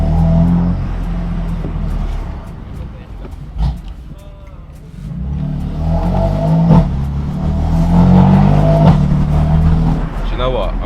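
A straight-piped BMW M4 engine revs hard and rasps up and down, loud and close, with people talking over the deep, aggressive exhaust.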